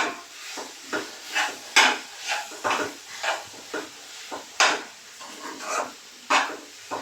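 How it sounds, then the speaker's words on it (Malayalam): Diced tomato being sautéed with beef and onion for a home-style Kerala beef curry, a spatula scraping and stirring in the pan in a steady series of close rasping strokes with no one talking. "ടൊമാറ്റോ ഇട്ട് കൊടുക്കാം ഇനി ഇച്ചിരി കൂടി ഒന്ന് വഴറ്റാം"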